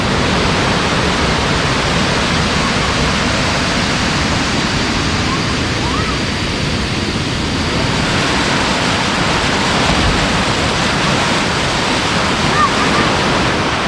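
Water rushes steadily and loudly through an irrigation channel running down to fields in Laos, a dense, constant roar of flow close by with no pauses.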